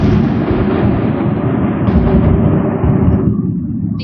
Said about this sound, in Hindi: देख रहे हो कितनी जोर से बादल गरजी है अभी